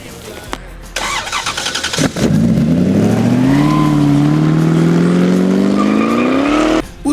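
A Boss Hoss V8 motorcycle engine fires up and revs, its loud deep roar climbing steadily for several seconds before cutting off abruptly, with no talk over it.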